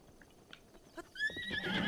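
Horse whinnying and hoofbeats in the video game The Legend of Zelda: Breath of the Wild, a few soft clip-clops followed by a loud, close neigh that rises and wavers, with no talking.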